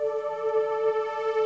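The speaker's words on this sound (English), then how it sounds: "I will play a sequence from this synth that I recorded here earlier." A synth sequence recorded earlier plays through a Gristleizer industrial sound processor as a steady buzzing, harmonically rich drone with a slight wavering pulse, moderately loud and alone.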